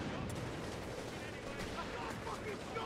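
Gunfire from a sniper rings out in a battlefield video game, with dense, continuous rattling shots and distant blasts forming a busy combat backdrop.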